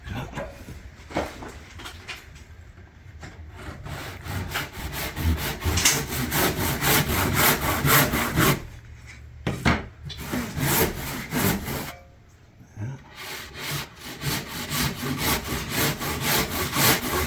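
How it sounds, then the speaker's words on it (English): A hand saw cuts through wood for a traditional plaster frame, giving loud, rhythmic rasping strokes with brief pauses between bursts, close by and alone. "Sawing this, you want to keep your saw nice and straight."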